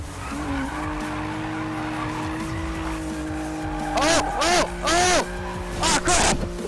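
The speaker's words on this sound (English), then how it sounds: "We're trying to drift down this." Tires squeal in several sharp bursts as a car drifts through turns in the Need for Speed racing game, loud over a steady engine drone, with a person talking in the background.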